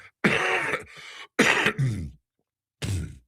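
Three close, loud coughs with throat-clearing, spaced irregularly by silent gaps, from a host during a live football pregame broadcast.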